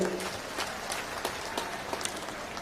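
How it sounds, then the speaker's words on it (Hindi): A crowd claps at an open-air election rally in Karnal, Haryana, in a brief, dense patter of many hands at steady loudness, like rain. "उनके लिए भी जोरदार तालियों से स्वागत करें।"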